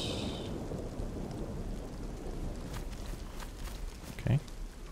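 Thunder rumbles under steady rain in DayZ on the Chernarus map, a continuous low wash of downpour with a short, louder crack or rumble near the end.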